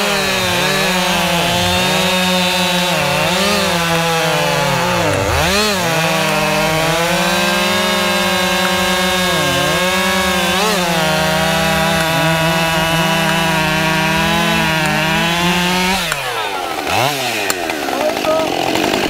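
A Husqvarna chainsaw cuts through a storm-felled tree, running loud and close for the whole stretch with pitch swings as the engine loads and revs, then dropping off near the end; voices are barely audible under the engine.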